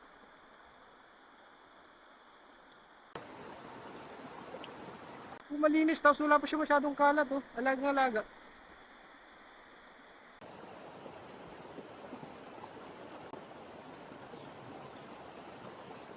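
A clear river stream at Ugay Riverside Eco Park in Palawan flows with a steady, broad rushing wash that runs through the whole stretch. Someone talks briefly over it midway, and the water grows louder near the end.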